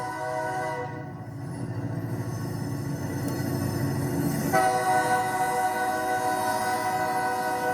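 A freight train rumbles past close by on the railroad with a loud, steady low roar and clatter, its horn sounding a long sustained chord that brightens and shifts partway through.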